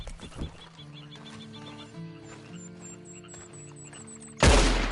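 A horse neighs in the video game Red Dead Redemption 2, a whinny over game music and a high repeating tone, ending with a sudden loud burst of noise.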